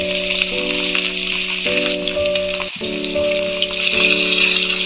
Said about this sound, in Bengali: কড়াইতে আমার সর্ষের তেল গরম হয়ে গেছে। এবার আমি মাছগুলো ভাজার জন্য